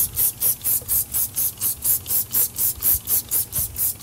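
A trigger sprayer puts wheel cleaner onto a car wheel in about fourteen quick, evenly spaced hissing squirts. The rhythmic pumping is close and clear, with no voices.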